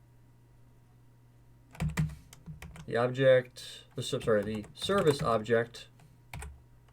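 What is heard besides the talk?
typing on a computer keyboard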